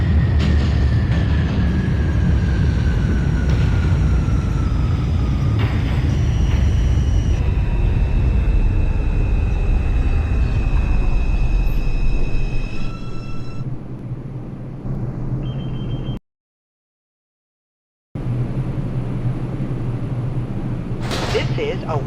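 An R142 subway train on the 2 line in the OpenBVE simulator runs with a loud, steady rumble and rising and falling motor whine, broken by a brief total dropout before resuming.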